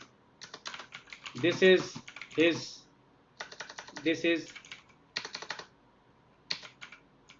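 Computer keyboard typing of a Python string in a programming lesson, quick bursts of keystrokes in uneven runs, close and fairly soft, with someone speaking briefly over part of it.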